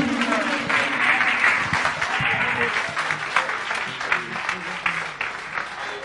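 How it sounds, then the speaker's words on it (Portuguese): Church congregation applauding the Lord during a Friday congress service, a dense continuous wash of clapping with some voices and cheers mixed in throughout. "Aplauda o Senhor com alegria, amém?"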